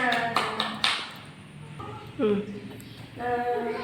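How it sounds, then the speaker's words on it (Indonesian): Classroom students in a combined-grade class clapping in a few short scattered bursts, interleaved with a teacher talking. "Beri tepuk tangannya"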